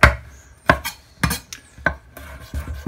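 Garlic trimmed and chopped with a knife on a board: about six sharp, separate chops spread irregularly, close and clear, with no talking.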